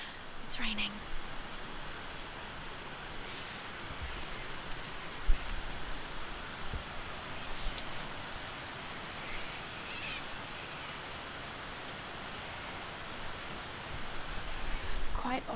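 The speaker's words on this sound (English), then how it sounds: "It's raining." Steady rain falling outdoors in a storm, a dense even hiss with occasional closer drip and patter accents, moderately loud and continuous throughout with no talking.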